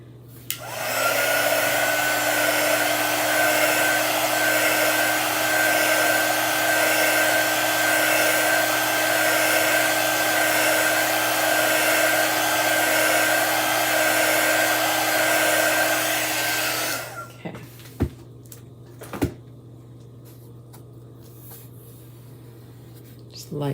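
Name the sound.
drying chalk paste with a dryer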